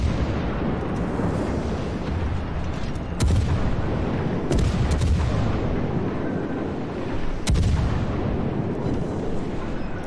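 Heavy naval gunfire from warship batteries in World of Warships, a steady roar broken by several sharp, loud booming salvos at irregular intervals, with no voices.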